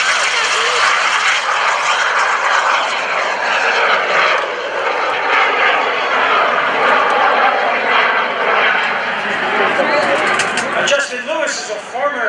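An FLS Microjet jet aircraft roars past at a lakeside airshow, a loud sustained engine rush that holds steady and shifts slightly as it passes, with a commentator talking over it.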